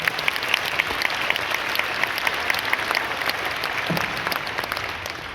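Warm applause from a church gathering welcomes Pastor Stephen Tong as he comes to preach, a steady dense clapping that holds evenly throughout without any voices.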